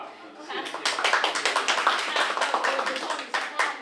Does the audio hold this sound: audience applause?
yes